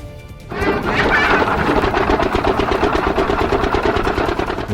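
Mill machinery starts up and keeps running close by, a loud, steady, rhythmic mechanical clatter and rumble with a fast pulsing beat.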